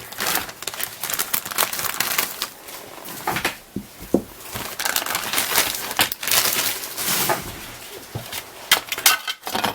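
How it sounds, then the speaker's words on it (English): Crinkling and rustling of a plastic parts bag being cut open from a 1974 Plymouth Roadrunner 1:25 scale model car kit, with irregular close crackles, small clicks and handling noises. "We'll get this bag cut open."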